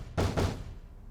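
A fist pounds hard on an old apartment door, giving two quick, heavy, muffled thuds in rapid succession, loud and close, followed by silence.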